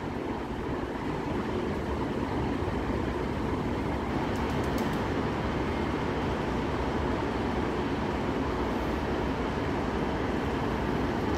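A train at Blackburn station gives a steady, loud rumble and roar through the whole stretch, with a brief high squeal partway through and no voices.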